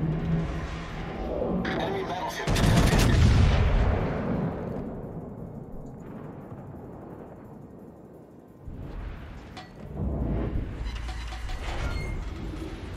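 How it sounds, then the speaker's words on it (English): Main guns of the battleship Kearsarge firing in a naval video game, one heavy rumbling boom followed by lighter distant blasts, with someone talking and radio-style voice lines throughout. "The good thing about those guns though is you can lob over so many things."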